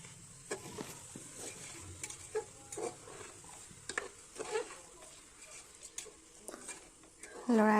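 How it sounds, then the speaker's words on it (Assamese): Rice is stirred and fried in a pan for chicken biryani: close, irregular scraping stir strokes over a soft sizzle, ending with a brief louder tonal burst. "আকৌ লৰাই ল'ব, চাউলখিনি ভাজি ল'ব।"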